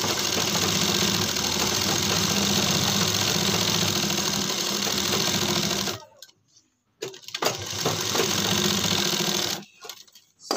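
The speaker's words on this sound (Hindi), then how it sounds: "और एक पैर की सिलाई लगा देंगे" Sewing machine running steadily as it stitches a folded hem on kurti fabric, a continuous loud motor hum for about six seconds, then brief stops and short restarting bursts close by.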